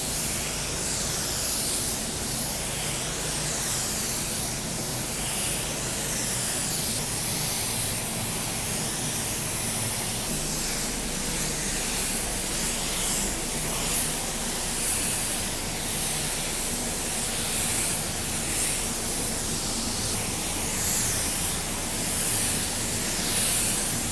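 A paint spray gun applies a pearl coat to a car, producing a steady, loud hiss that runs without a break, with no talk.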